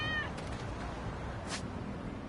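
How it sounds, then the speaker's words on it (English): Cats meow in the video game Lost Judgment, a short mew and then a clearer, higher meow a second later, both over a constant soft background hum. "I want to give it to these kitties."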